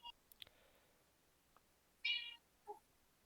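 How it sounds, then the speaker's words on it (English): A house cat lets out a few short, clear meows, the loudest midway, close but fairly quiet, over a near-silent room with small scattered clicks. "Is that a cat?"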